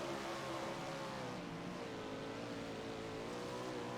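A dirt sprint car in the iRacing video game, World of Outlaws at Knoxville Raceway, its engine held at full throttle in a constant loud drone with no breaks.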